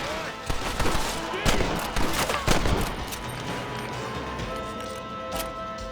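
Gunfire in the Western video game Red Dead Redemption: repeated loud revolver and rifle shots burst in a tight cluster through the first half, then ease off into a lower rumble with an occasional distant crack.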